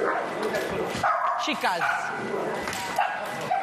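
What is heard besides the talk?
Malinois dog barking during training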